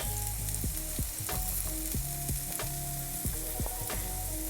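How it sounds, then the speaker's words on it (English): Garlic frying in a pan for vegan collard greens, a loud, close, steady sizzle with crackling pops, heard alone without voices. "see how fast that garlic begins to brown"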